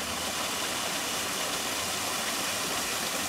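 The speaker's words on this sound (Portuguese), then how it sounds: "Que queda d'água impressionante, ó." A waterfall pours down from a river cascade, a steady, dense rush of water roaring close by without pause and with no voices.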